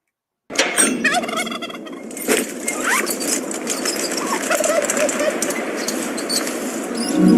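A flock of turkeys gobbling loudly and continuously, many overlapping calls close by with some wing flapping, sustained throughout after an abrupt start.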